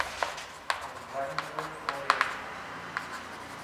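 Marker or chalk strokes on a classroom board while a math formula is written, a series of sharp scratchy taps and short scrapes spaced irregularly over a faint room background.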